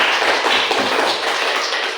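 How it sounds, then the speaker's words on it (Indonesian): A classroom group claps together for the first student group, a dense, steady patter of many hands held at an even level throughout, close and loud. "Tepuk tangan buat kelompok 1"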